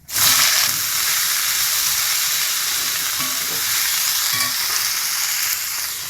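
Potato and onion pieces hit hot oil with mustard seeds in a pan, opening with a sudden loud crackling burst that settles into a strong, continuous sizzle.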